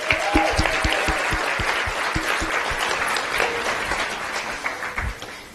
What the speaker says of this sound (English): can we give the loudest round of applause to the parents, siblings, families, friends, and loved ones